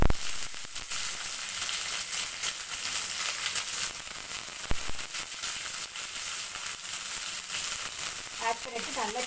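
Garlic, onions, curry leaves and green chillies sizzle and fry in a pan for a cabbage carrot poriyal, a steady close hiss with faint crackles and a brief stir, while a voice speaks near the end.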